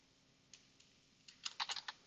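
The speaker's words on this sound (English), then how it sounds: "my focus is typing in my OBS window or in my Stream Elements window" Quiet keystrokes tap on a computer keyboard during a home livestream setup, a few isolated clicks early on, then a quicker cluster of louder taps near the end, with no voices.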